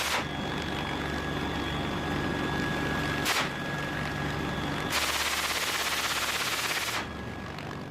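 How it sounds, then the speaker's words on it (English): Machine guns fired by a helicopter crew at ground targets during a large military exercise, a loud continuous rattle of automatic fire with a brief burst break, then a denser, harsher stretch of firing before easing. "Crews undergo extensive training, firing multiple rounds at ground targets to prepare for defending the aircraft during operations"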